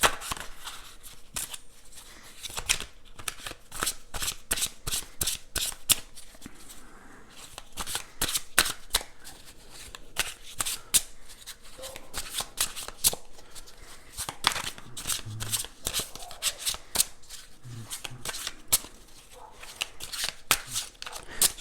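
Tarot cards shuffled by hand, a long run of quick crisp riffling clicks in an uneven rhythm, close and clear, with soft handling sounds between bursts.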